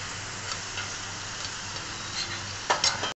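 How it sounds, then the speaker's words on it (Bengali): Potatoes frying in a pan at home, a steady soft sizzle with light stirring scrapes and a few sharper clinks near the end. "আলুগুলো ভাজা চলছে"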